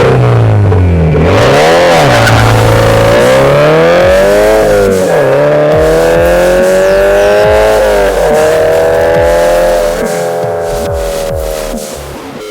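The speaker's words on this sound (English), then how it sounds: "It's been force-fed by P-Tuning's Stage 1 turbo kit, which promises 300 rear-wheel horsepower at 6 pounds of boost." A turbocharged Subaru BRZ running a P-Tuning Stage 1 turbo kit at 6 psi of boost, pulling hard through the gears with a loud, close engine note that rises and falls through several shifts, no talking.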